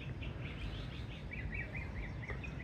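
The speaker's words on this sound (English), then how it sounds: "Birds chirping." Birds chirping outdoors on an undeveloped two-thirds-acre lot in Cardiff, a repeated series of high, quick tweets over a low, steady background rumble.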